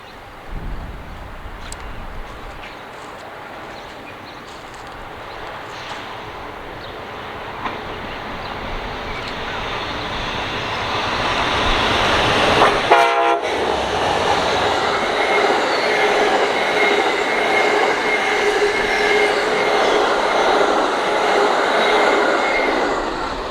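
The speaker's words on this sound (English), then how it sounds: "we beat the Amtrak Lakeshore Limited, heading towards New York City and Boston, Massachusetts, with the Amtrak 108 trailing in the Phase 6 scheme" Amtrak Lakeshore Limited passenger train heading toward New York City and Boston rolls steadily past, a broad rumble and rail noise building louder through the second half; no distinct horn blast stands out.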